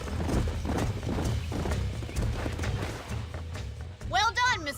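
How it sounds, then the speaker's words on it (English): Horses clip-clop and a horse neighs near the end in Red Dead Redemption on PS4, with steady hoofbeats running under game character dialogue. "These are fine horses."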